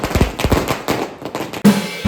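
Firecrackers burst in a rapid string of sharp, loud cracks at close range, scattered pops running together before a final heavier blast near the end, with no talking.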